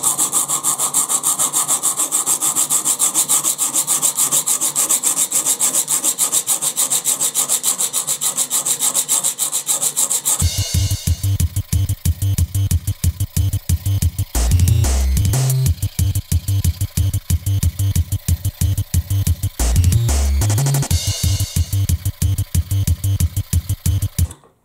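A Sandrin tungsten carbide blade edge is worked at a steep angle to grind out a chip. A continuous abrasive rasp gives way to fast, rhythmic back-and-forth scraping strokes, loud and close.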